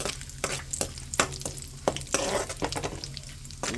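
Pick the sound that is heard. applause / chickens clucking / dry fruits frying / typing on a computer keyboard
dry fruits frying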